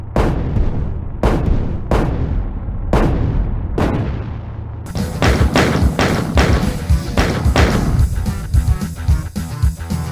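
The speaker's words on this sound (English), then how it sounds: "it sounds like they used the exact same shot sound effect as the pistol for Doom" Tank cannon shots from the NES game Super Battletank: a series of sharp, punchy 8-bit blasts at a steady pace, followed by a denser stretch of rapid, overlapping booming shots with continuous noisy rumble.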